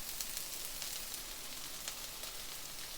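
Onions hit a pan of hot vegetable oil and spices, giving a soft, even sizzle with faint crackles, quiet and steady without speech.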